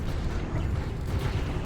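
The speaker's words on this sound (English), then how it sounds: "heavy cannons" Heavy cannons on Warforged warships fire in a Stellaris space battle, a dense, continuous barrage of low booms and rumble filling the whole stretch, with no voices.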